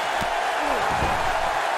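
Loud, sustained crowd roar from a virtual Toronto wrestling arena in WWE 2K18, a steady wash of cheering with a few brief thuds and whoops rising out of it.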